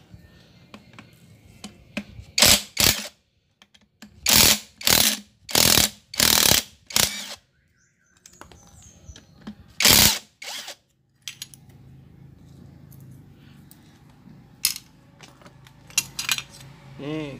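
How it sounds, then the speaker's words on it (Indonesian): A cam chain is removed from a Yamaha Jupiter MX motorcycle engine, heard as loud bursts of ratcheting and metallic clatter in several short spells, followed by quieter tool handling and faint clinks. "Kita lepas rantai ketengnya."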